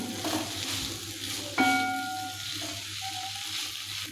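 Roasted peanut powder is stirred into a pan of ghewada bean stir-fry over a soft sizzle, with a sudden metallic clink of the spoon against the pan partway through and some lighter scraping afterward. No one speaks.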